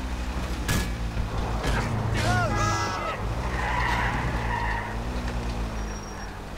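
Tyres skid on a car in Grand Theft Auto IV, a couple of short screeches early on over a steady engine drone, with faint voices in the game behind.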